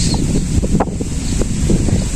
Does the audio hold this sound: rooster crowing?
no